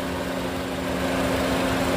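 A 2011 Honda Civic FD 1.8 facelift engine idling with a manual gearbox, a steady close hum with an even tonal drone that holds constant and is heard alone.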